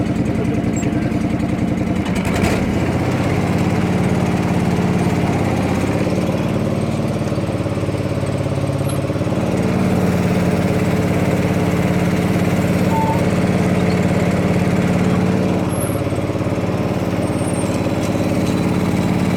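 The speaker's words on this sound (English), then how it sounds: "I'm going to try the hydraulics." A John Deere 445 lawn tractor engine runs steadily at idle during a hydraulics test, a close, continuous mechanical hum with a brief knock near the start and no talking.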